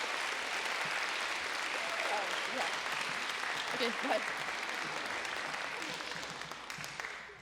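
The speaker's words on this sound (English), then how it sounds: "give yourselves a round of applause" An audience at a youth poet laureate celebration applauds in a dense, sustained wash of clapping that tapers off at the end, with scattered voices and a brief spoken farewell mixed in.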